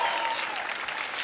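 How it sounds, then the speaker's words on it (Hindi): A studio audience on a Hindi TV game show claps loudly for a guest named Rani, a brief dense burst of applause that holds steady throughout. "जोरदार तालियां रानी जी के लिए।"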